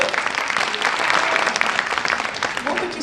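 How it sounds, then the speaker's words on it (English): An audience applauds a Marcus Samuelsson discussion at a Macy's Black History Tour event, a dense, steady patter of many hands that fills the room at even loudness for the full three seconds. "you can applaud to that, absolutely."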